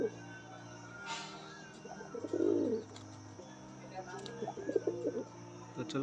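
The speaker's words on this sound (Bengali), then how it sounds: "দেখুন পায়রাগুলো।" High-flying Andhra (Madrasi) pigeons coo in soft, repeated low calls close by, with a few chirps and someone talking quietly over them.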